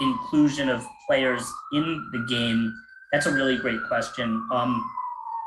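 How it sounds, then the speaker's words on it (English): A police siren wails steadily in the background, rising and falling slowly beneath a person talking close up. "sorry for the sirens in the background."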